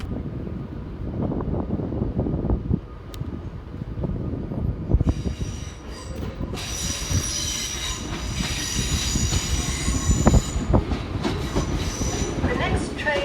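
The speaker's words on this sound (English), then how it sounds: "Arriving to terminate 28 minutes late with a northern service off Manchester Piccadilly is" A Northern passenger train from Manchester Piccadilly pulling into Crewe station, with steady rumbling wheels, rail clatter and high squealing brakes close by, plus wind buffeting the microphone.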